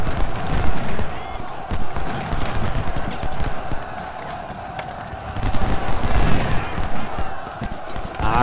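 Battle noise from Ultimate General: Civil War, with musket fire and cannon shots rolling continuously in a thick, loud wash of crackles and low thumps, swelling toward the end.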